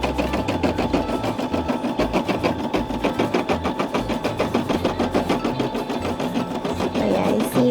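A Brother SE600 embroidery machine stitches out a design with a steady, rapid mechanical chatter of needle strokes, close and loud, running continuously on its own.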